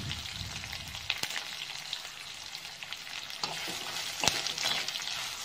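Chopped onions sizzle steadily in hot oil with fennel seeds in a pan for a Tamil egg masala, with a few sharp clicks of a stirring spoon against the vessel; no one speaks.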